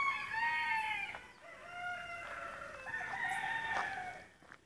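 Speckled hens cluck and call in a series of loud, drawn-out squawks close by, several overlapping bursts in quick succession with no talk.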